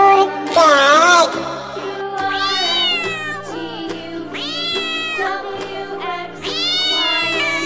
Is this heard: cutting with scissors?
no